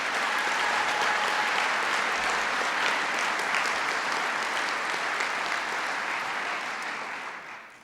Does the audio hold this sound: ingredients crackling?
no